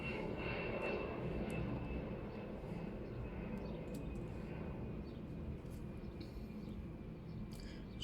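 An airplane passes overhead outdoors as a steady, faint, broadband drone that swells slightly at first and then holds evenly, with small clicks and rustles nearby.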